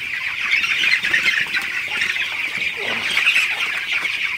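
A dense chorus of broiler chickens, 18 days old, clucking and squawking continuously, many birds close by with no pauses.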